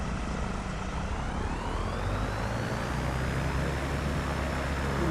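Aircraft engine in Microsoft Flight Simulator 2024 on a Grand Canyon flight, a loud steady drone with a faintly rising whine layered on top, continuous throughout with no talking.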